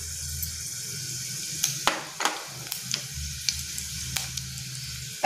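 Bay leaves, cumin and black pepper sizzle in hot oil in a kadhai while paneer bhurji is cooked, a steady close frying hiss with scattered sharp pops and crackles.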